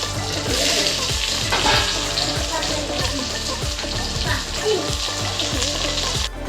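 Carrots and potatoes frying in a pan for vegetable biryani, loud close sizzling with rhythmic spatula scraping and stirring throughout.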